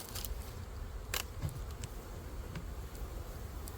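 Bees buzz around a hive bee escape at an apiary, a continuous close insect hum with a few sharper clicks and bumps.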